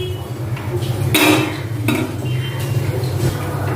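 Metal cookware clanks and scrapes as utensils knock against a pot while water is added to a fish curry with potatoes and pointed gourd, with a few sharper clatters over steady kitchen noise.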